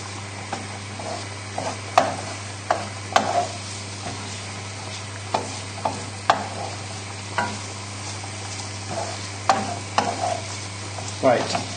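Bacon and garlic sizzle in a pan under repeated sharp scrapes and knocks as the pieces are pushed around, a low steady hum running beneath, no voices.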